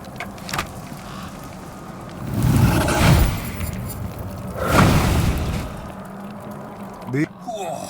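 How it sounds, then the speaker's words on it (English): An explosion in the video game Lunacy: Broken Alliance, heard as two deep, rumbling booms spread over several seconds, with a quieter whoosh between them and a short sharp effect near the end. "Whoa, 'twas an explosion and a half."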